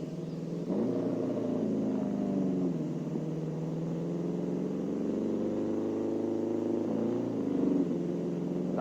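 Race cars in Project Cars 2 roll around a 1970 sports car championship circuit, engines rumbling and revving with shifting pitch, a steady mechanical drone with brief climbs.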